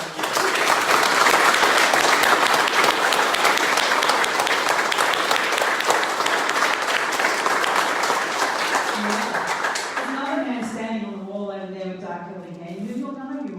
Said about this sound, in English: can we have a great big hand for Mark and for Ray?